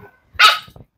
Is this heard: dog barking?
yes